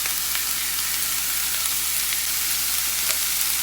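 Zucchini, corn and Anaheim pepper sauté in a hot pan with a bright, steady hiss of sizzling oil, continuous and close, with occasional small pops and no talking.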